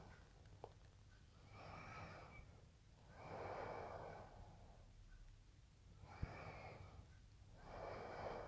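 Deep breathing during a yin yoga session, slow audible inhales and long exhales alternating in a steady rhythm, close and soft over a quiet background.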